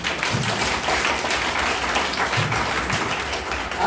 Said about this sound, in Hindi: तो अपने अपने लिए ताली बजा लो।